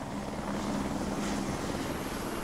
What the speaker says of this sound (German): Harald schiebt wieder den Helikopter an die Windkraftanlage ran.